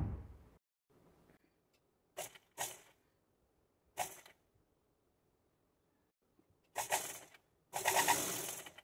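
Short bursts from a sewing machine stitching three fabric layers of a frock, several quick whirring runs separated by quiet pauses, the last ones longer and louder.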